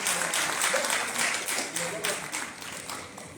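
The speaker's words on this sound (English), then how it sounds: "Can we give them one more big round of applause?" A crowd at a community safety summit in a Bronx hospital gives a sustained round of applause, dense clapping rising and tapering over a few seconds with a few faint voices mixed in.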